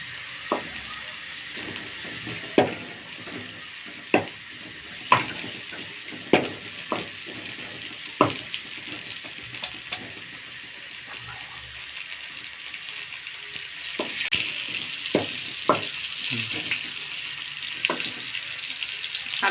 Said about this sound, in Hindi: प्याज़ों की अच्छी तरह भुनाई करेंगे।